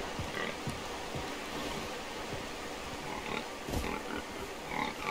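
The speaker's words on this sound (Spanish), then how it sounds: "Oigo un cerdo, me gusta." Pig grunts and oinks come from the Far Cry 3 video game, soft and intermittent over a quiet jungle ambience.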